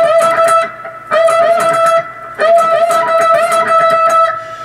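Electric guitar with distortion playing a solo lick, with string bends and quick up-down picked notes, repeated twice in loud close bursts.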